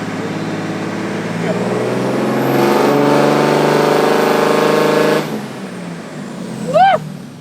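A 2024 fifth-generation Cummins diesel dually truck makes a loud pull on a dyno. The engine note climbs steadily, holds at a high strain for a few seconds, then cuts off abruptly, and a short high chirp follows.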